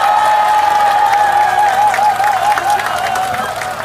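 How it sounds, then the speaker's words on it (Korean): Loud, steady applause from a crowd at a Democratic Party campaign rally for the Gangseo district mayor by-election, with scattered cheers and a sustained tone running over the clapping throughout. "우리 김현주 부의장께 큰 박수 부탁드리겠습니다."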